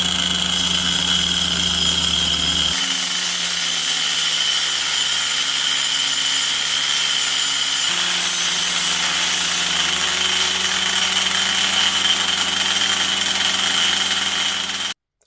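A loud, continuous power tool whines and buzzes for a long stretch, its pitch shifting slightly as it cuts, with no voices.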